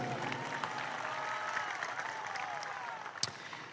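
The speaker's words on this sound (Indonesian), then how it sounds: "Kita berikan tepuk tangan untuk beliau." Audience clapping for a religious speaker at an Aceh gathering, a steady moderate wash of applause throughout with faint murmuring and one sharp knock near the end.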